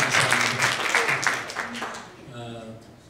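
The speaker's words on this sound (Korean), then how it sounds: "우리 좀 큰 박수를 한번 좀 부탁드리고 싶은데" Congregation applause at a church thanksgiving service for an elder's eightieth birthday, a brief burst of clapping under someone talking that thins out as his voice carries on.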